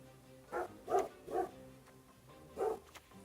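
A dog barks several times nearby, with four distinct woofs spaced unevenly across a few seconds and a fainter yip near the end, and no talking over it.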